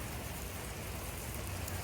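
A steady, unbroken rain falls outdoors on a wooded property in all-day wet weather, a dense, even hiss of drops on surfaces with no pauses and no voices.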